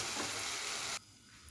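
Tomatoes sizzling and softening in a hot pan for a Kerala tomato theeyal, a steady bright frying hiss that cuts off abruptly near the end, leaving faint low background.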